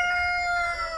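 A Marans rooster crows in a henhouse yard, a steady held call with bright harmonic tones lasting the full second, close and loud with no talking.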